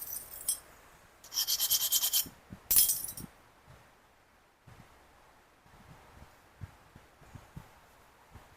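Obsidian knife blade edge being ground in two rough, scraping bursts near the start, followed by quieter scattered clinks and taps.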